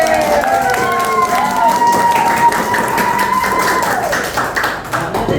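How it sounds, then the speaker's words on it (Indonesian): A group claps for three presenters during a class presentation session, a steady patter of hands running through the whole stretch with a sustained tone and some voice underneath, fading slightly near the end. "Tepuk tangan dulu buat bertiga"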